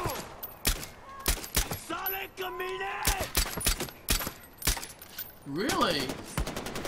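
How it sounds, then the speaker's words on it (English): Gunfire in the video game Far Cry 4 crackles in sharp, scattered bursts, fairly close, while excited voices talk over it throughout. "Someone's shooting!"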